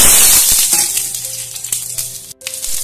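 Whole spices hit hot mustard oil in a wok with a loud, steady frying sizzle that stays up close throughout, broken by a few light clinks and a brief drop near the end, with no voices.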